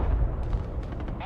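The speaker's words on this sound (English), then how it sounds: "he's just randomly dropping artillery" Artillery rounds pound down in the Broken Arrow war game, a run of dull booming blasts and rumbling impacts over a constant low roar of battle, with short crackling bursts toward the end.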